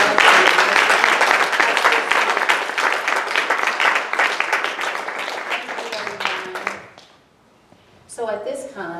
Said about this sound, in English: let's give a round of applause for our talented